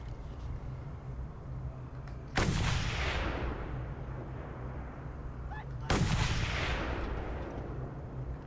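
Two heavy sniper rifle shots ring out in the Mad Max video game, about three and a half seconds apart, each a sharp loud crack with a long rolling echo tail over a steady low engine rumble.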